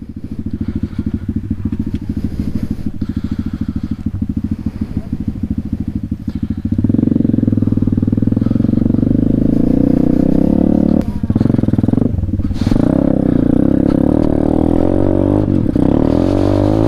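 A dirt bike motorcycle engine runs loud and close, first at a rough, throbbing idle, then rising sharply into sustained revving with brief dips, without speech.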